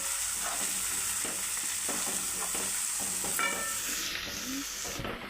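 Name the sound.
stirring prawn curry masala with turmeric in a pan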